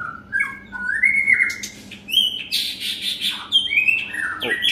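White-rumped shamas sing close by in bright, varied whistled phrases and chirps, several birds overlapping continuously with no talk.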